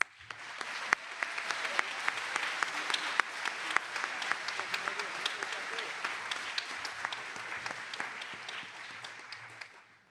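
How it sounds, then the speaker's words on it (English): Audience applause after a keynote address, sustained steady clapping from a sizable crowd lasting about ten seconds, moderately distant, fading at the end. "We can now give them a round of applause."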